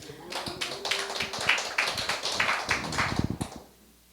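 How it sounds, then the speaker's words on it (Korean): Scattered hand claps from a small church audience during a sermon, a loose patter of separate claps that builds briefly and then dies away, leaving quiet at the end. "이럴 때 박수 좀 쳐야 되는데."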